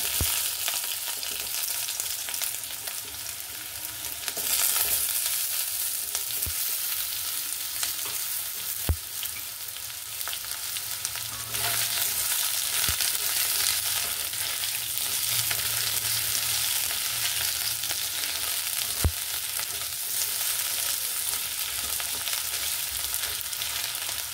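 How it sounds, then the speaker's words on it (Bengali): Potatoes and popping cumin seeds frying in oil for an aloo matar paneer curry, a dense continuous sizzle with scattered sharp pops and occasional stirring clicks, no voices. "জিরেগুলো ফুটে গেলেই তাতে আলুগুলো দিয়ে দিতে হবে।"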